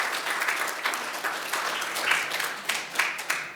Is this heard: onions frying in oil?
no